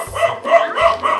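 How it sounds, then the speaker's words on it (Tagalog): Dogs barking in several loud, close bursts, about four barks in quick succession across a little over a second. "Galit talaga sa'yo mga aso, no?"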